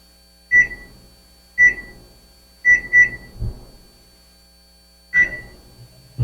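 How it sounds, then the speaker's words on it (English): A microwave oven cooking salmon wrapped in plastic gives a series of sharp electronic beeps, single and doubled, with a faint hum and light clunks between them, close and without talk. "We wrap it in plastic wrap, pop it in the microwave."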